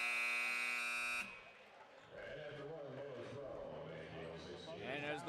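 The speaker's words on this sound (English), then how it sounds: "as the buzzer sounds" A loud, harsh electronic buzzer blares for about a second at the end of a quarter in a girls' varsity high school basketball game between Morris and Manteno. Crowd noise and a commentator's voice follow.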